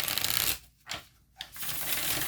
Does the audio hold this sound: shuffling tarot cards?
yes